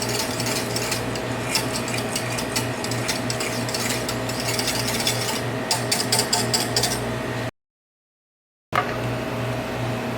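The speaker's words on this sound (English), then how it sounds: "Stir to make sure it's well combined" A spoon stirs crumb glaze mixture with added salt in a pot off the heat, making a steady scraping and rubbing that runs continuously, then cuts to a brief silence before resuming.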